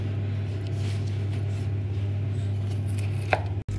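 Boiled, softened cauliflower being cut apart with a knife for a cauliflower and pasta gratin, soft muted chopping over a steady low kitchen hum, with a sharper knock near the end and no talking.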